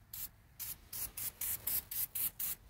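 Close hissing bursts from a 14.5 ounce Turtle Wax Wet n Black tire shine aerosol can, sprayed about nine times in quick, evenly spaced pulses, each lasting roughly a fifth of a second, with short silent gaps between.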